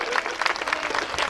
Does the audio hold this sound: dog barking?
no